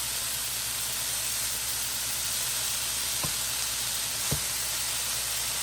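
Thin-shaved beef sizzles steadily in a hot pan, a constant bright hiss with two brief clinks or thumps as pieces are flipped.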